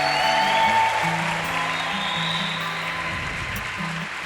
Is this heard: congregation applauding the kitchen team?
yes